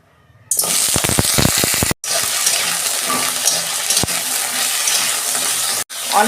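Sajne drumstick stalks for lentil dal hit hot oil with a sharp burst, then a steady, loud sizzle and crackle continues, with brief dropouts and no talking.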